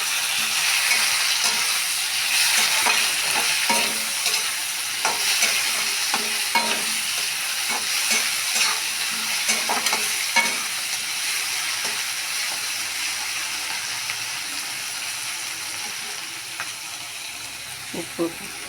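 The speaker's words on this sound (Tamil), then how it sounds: "வெங்காயமும் பச்சை மிளகாயும் நல்லா வதக்கிக்கணும்." Onions and green chillies sautéing in a pan give a steady bright sizzle, with the scrape and clatter of a stirring spoon against the metal coming through clearly and continuously, close by.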